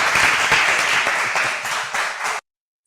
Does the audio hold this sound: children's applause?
yes